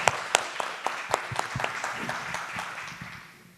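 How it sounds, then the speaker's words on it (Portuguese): Audience applause at the close of a state seminar on water and health, a dense burst of many hands clapping with sharp claps up front, holding steady and then fading toward the end. "Uma salva de palmas para os palestrantes e para vocês."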